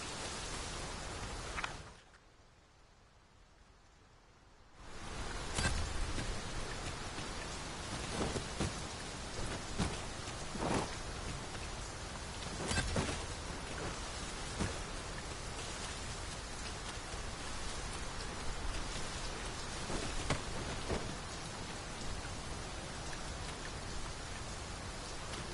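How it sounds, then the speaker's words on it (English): Steady heavy rain pours throughout a fantasy video game scene, with a brief quieter lull near the start and scattered rumbles of thunder beneath the constant hiss. "This rain is cold as ice."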